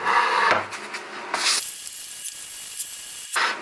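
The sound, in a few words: sanding a wooden work surface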